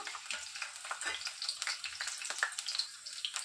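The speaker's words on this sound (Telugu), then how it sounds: "ఆయిల్ కాస్త వేడెక్కిన తర్వాత మనం కట్ చేసి పెట్టుకున్నటువంటి పచ్చిమిర్చిని ఇందులోనికి వేసేసుకుంటున్నాను" Green chillies fry in hot oil with a close, crackling sizzle full of small pops and spits, moderately quiet and continuous, with no talking.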